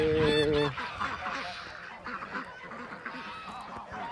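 A loud goose honk opens the clip, followed by a busy background of free-roaming farm geese and ducks honking and quacking at moderate distance.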